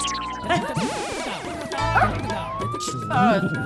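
A police jeep siren wails nearby, sweeping up and down over a few seconds, with a dog barking and voices mixed in.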